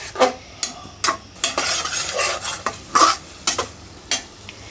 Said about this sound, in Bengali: চিংড়ি মাছ কষাইছি, অনেকক্ষণই কষাইছি।